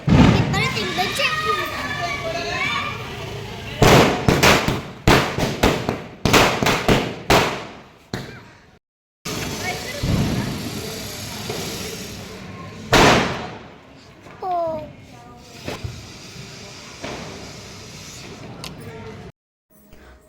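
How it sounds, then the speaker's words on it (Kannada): Diwali firecrackers burst outdoors in sharp, loud cracks, some in rapid clusters and others spaced apart, while children shout and talk between the bangs. "ದೊಡ್ಡ ದೊಡ್ಡ ಪಟಾಕಿ ಎಲ್ಲ ಹೊಡಿಯೋಣ ಅಂತ ಹೇಳ್ಬಿಟ್ಟು ಹೇಳಿದೆ ನಮ್ಮ ಮನೆಯವರಿಗೆ"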